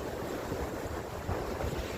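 Ocean waves wash onto a sandy North Carolina beach with a soft continuous rushing surge and some wind noise on the microphone, fairly quiet and close, with no voices.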